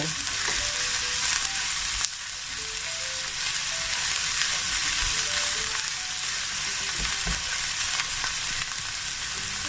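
Chopped onion fries steadily in a hot pan until golden brown, a loud, continuous crackling hiss up close, with faint scrapes of stirring now and then.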